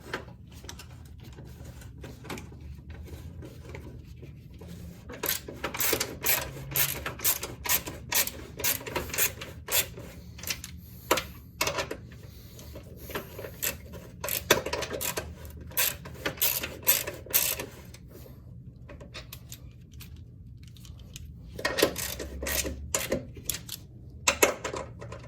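A 19 mm wrench ratchets and clicks in bursts of rapid strokes as a nut on the driver-side control arm of a 2003–2008 Toyota Corolla, Matrix or Pontiac Vibe is tightened against the subframe, close and sharp with pauses between.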